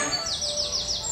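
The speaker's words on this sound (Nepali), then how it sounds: "चराहरूको चिरबिर चिरबिर आवाज" Birds chirp in a quick run of five or six bright, rising-falling tweets close by, ringing out over faint countryside background hiss.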